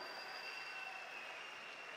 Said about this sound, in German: Nochmal hier einen großen Applaus für diesen tollen Abend